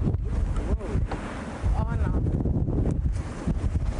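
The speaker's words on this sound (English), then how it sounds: "the winds intensifying right in the middle of this interview" Strong wind from a possible tornado in Montebello roars and buffets the microphone outdoors. The gusting noise is loud and steady for the whole stretch, with no words spoken.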